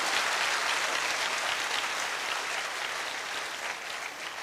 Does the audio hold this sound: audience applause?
yes